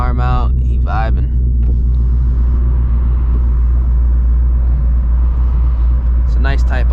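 A catless Ford Mustang GT cruises city streets in Houston with a deep, steady exhaust rumble heard from inside the car, while someone talks briefly over it at the start and end.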